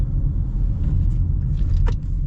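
A 2021 Honda CR-V EX-L gives a steady low cabin rumble of road and engine noise as it drives, with no clear braking sound standing out.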